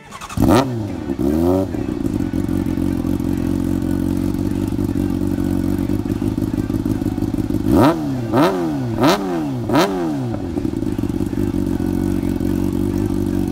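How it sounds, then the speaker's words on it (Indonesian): A 2009 Honda CBR600RR four-cylinder motorcycle engine idles loudly and steadily, then revs sharply once near the start and several times in quick succession later. "Yang jadi idaman sih paling utama itu suara khas 4 silinder yang sangat merdu didengar."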